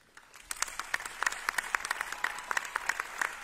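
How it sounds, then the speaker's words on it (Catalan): An audience at a presentation of new festival giants in Torredembarra claps for a giants' dance troupe, scattered crisp handclaps building into steady applause, fairly faint and moderately distant. "m'agradaria demanar un fort aplaudiment pel Ball de Gegants de la Torre"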